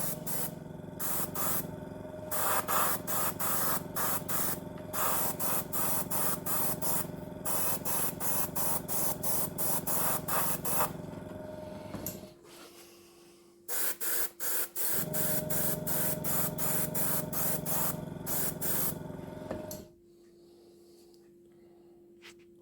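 Spray paint hisses out in long, steady bursts as a dust coat goes over black on an HMS Queen Elizabeth scale model, with a brief pause in the middle and a quieter stretch at the end.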